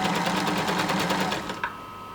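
Sewing machine stitching a gathered seam under the bust of a long dress, a close, steady rapid mechanical whir that runs continuously and then stops abruptly, leaving a faint hum.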